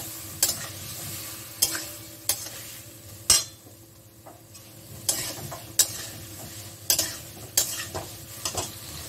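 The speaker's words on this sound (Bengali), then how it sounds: "এটা এখন এটাকে একটু কষিয়ে নেব" Food sautéed with radhuni spice sizzles in a pan, with sharp, irregular clacks and scrapes of a spatula stirring it and a quieter stretch midway, no talking.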